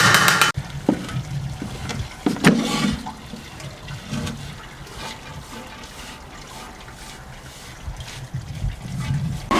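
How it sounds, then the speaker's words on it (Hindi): Water from boiled rice for zarda, a sweet rice dish, drains through a strainer: a loud rushing gush at first that thins to a trickling, dribbling flow, close by and with no voices. "इसको मैं पानी ड्रेन करने लगा हूँ, इसको झरने में निकाल के फिर आपसे मिलता हूँ"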